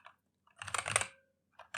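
Short burst of keys typed on a Windows computer keyboard, a quick cluster of close, light clicks preceded and followed by a few isolated taps.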